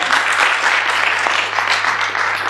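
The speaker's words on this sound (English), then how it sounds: "Come on, give her a round of applause for Sally." Audience at a panel discussion on the Big Four Agenda applauds, dense steady clapping sustained throughout, loud and close with no speech over it.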